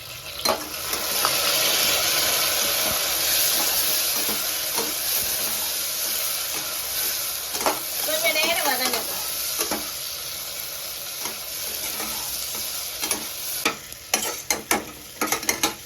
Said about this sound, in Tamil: வெங்காயம் கொஞ்சம் வதங்கிருச்சு. இப்ப நான் தக்காளி சேர்த்துக்கிறேன்.